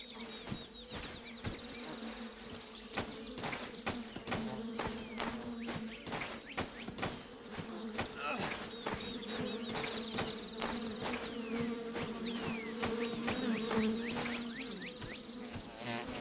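Bees buzz and swarm in the video game The Vale, a close, persistent droning hum with darting insect whines and scattered clicks and footsteps underneath.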